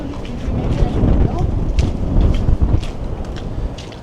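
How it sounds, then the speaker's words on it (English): Strong gusty wind funnelling between downtown Toronto condo towers on a winter street, buffeting the microphone in uneven bursts with faint footsteps and city rumble beneath. "very windy though as you walk through the Condo Canyon. Get the wind tunnel effect."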